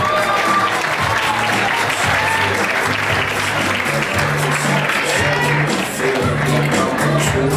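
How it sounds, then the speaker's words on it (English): A magic show audience applauds loudly and continuously as a volunteer named Tyler heads up to the stage, dense clapping close and sustained, with some voices and a background tone underneath. "We'll applaud you"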